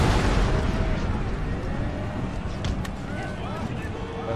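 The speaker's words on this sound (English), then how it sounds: "I think all four cannons are still firing," Cannons fire in an Empire: Total War battle, a dense wash of booming artillery and scattered bursts running continuously throughout at a loud, steady level.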